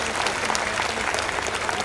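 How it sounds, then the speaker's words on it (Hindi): Steady applause from a live audience at a Hindi comic poetry gathering, dense and continuous throughout without gaps, loud and full with no voices standing out. "आप तालियां रोक नहीं पाओगे"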